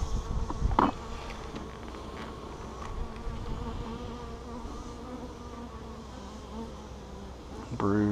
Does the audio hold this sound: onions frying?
no